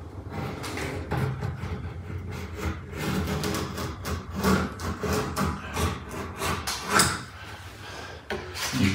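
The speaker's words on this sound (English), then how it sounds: "we're going to come back and sand at that edge" Sanding the edge of a kitchen cabinet while refacing it, repeated close rasping strokes in an uneven rhythm that continue throughout, with occasional light knocks.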